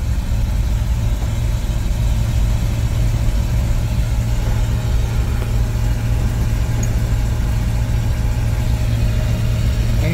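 A 1969 Chevy C50 fire truck engine pulls in fourth gear up a slight hill, a steady, loud low-pitched drone with constant rumble heard from the cab at around 20 mph.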